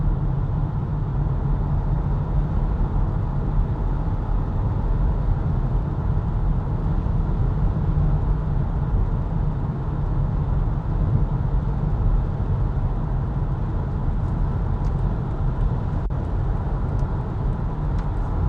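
Cabin of a BMW i4 M50 electric car driving, likely on Swedish roads: a constant low road and tyre rumble with soft wind noise, steady and moderately loud, no talking.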